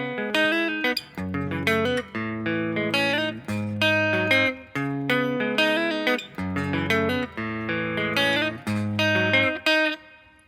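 Guitar picking a fingerstyle arrangement of a song, with arpeggiated strings ringing over steady bass notes, played alone, close and fairly loud in repeating phrases.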